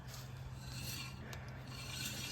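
Brake rotor on a car wheel hub spinning while rubbing lightly against the brake, a faint, steady scraping rasp with a soft low hum underneath, close by and with no voices.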